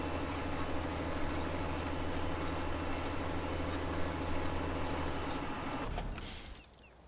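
A tractor engine idles in a farming simulator, a steady loud rhythmic rumble that runs unbroken, then cuts off near the end with a clunk and fades away.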